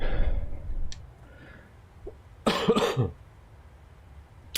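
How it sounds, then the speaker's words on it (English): One person gives a sharp, loud cough burst of about half a second after a stretch of quiet room noise, with a faint click and a soft breath nearby. "sorry for the coughing"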